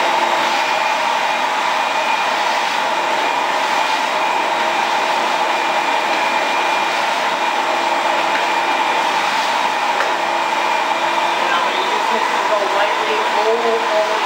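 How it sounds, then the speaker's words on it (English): A shop vacuum sucks up drywall sanding dust during a repair, a loud, constant whining roar running unbroken for the full stretch with steady tonal hum and no pauses. "Now I'm going to use my vacuum here"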